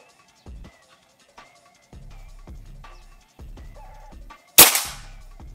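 A single sharp, close shot rings out from a Brontax 500 cc PCP air rifle, cracking loudly after several seconds of quiet, scattered background sounds and then tailing off quickly.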